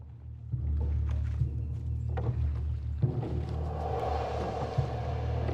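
Long oars of a human-propelled galley warship pull through water, a steady low rumble with recurring splashing strokes and a brighter wash of water building in the second half.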